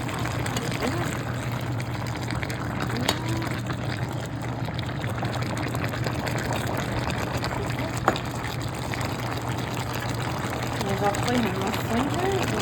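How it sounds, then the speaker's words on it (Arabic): Homemade sauce pours over cabbage rolls stuffed with rice and minced meat, a soft continuous wet trickle kept low beneath a voice. "هسه احنا نضيف الصلصة اللي سويناها"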